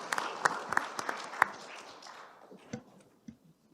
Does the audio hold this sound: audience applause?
yes